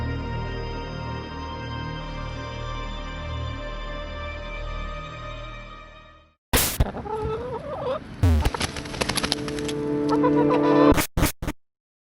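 A chicken clucks and squawks in short, loud bursts, after a steady sustained tone that cuts off abruptly.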